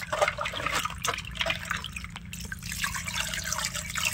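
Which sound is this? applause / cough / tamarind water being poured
tamarind water being poured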